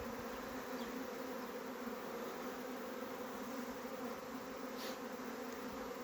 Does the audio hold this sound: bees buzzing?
yes